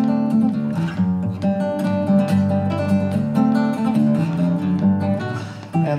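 Guitar playing a lively arrangement of the Moscow Polka, a simple dance polka, with bright plucked notes over a bouncing bass line, solo and close, no talking.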